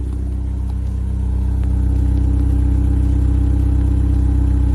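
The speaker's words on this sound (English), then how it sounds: "Start it up, let's see what the exhaust sounds like as idle." A 2024 BMW 2 Series engine idles with a deep, steady exhaust rumble, close and loud, with no talking.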